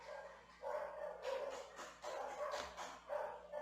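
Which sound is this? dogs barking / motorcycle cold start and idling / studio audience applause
dogs barking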